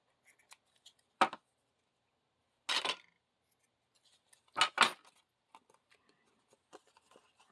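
Scissors snipping paper trims for a junk journal, a few separate crisp cuts with pauses between, close and alone, with faint handling rustles.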